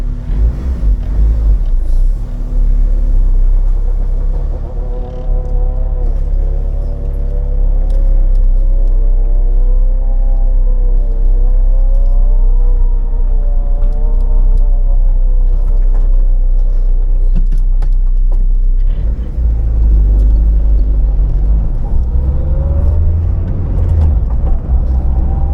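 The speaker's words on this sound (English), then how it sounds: "So now we're going to go for a drive." Car with redesigned T6 coil-overs driving down a rough town road, a loud steady low rumble with engine whir rising and falling in pitch as it accelerates, no voices.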